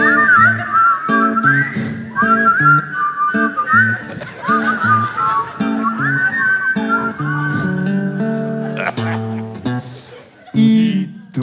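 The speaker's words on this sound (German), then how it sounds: "Ganze Saal mitpfeifen!" Audience in a hall whistling along to a melody in unison, loud and sustained over music, with occasional voices mixed in.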